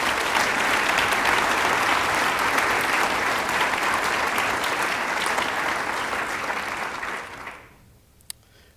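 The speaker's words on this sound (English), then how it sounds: "Please join me in a round of applause for our sponsors." Sustained applause from an audience at a university design studio showcase, honoring the event's sponsors; dense steady clapping fills the room for about seven seconds, then fades out quickly, followed by near silence and one stray clap.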